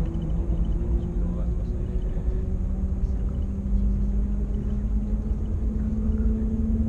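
Inside a Shanghai maglev train leaving the Shanghai airport station, a steady low rumble and droning hum fill the cabin, with faint tonal whines shifting slightly as it gathers speed.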